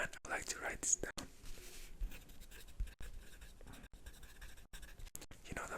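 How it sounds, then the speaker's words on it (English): A pen scratches across paper in soft, close strokes, with short bursts and pauses between them, as a quiet whispering voice carries on in a calm setting. "I'd like to write this down"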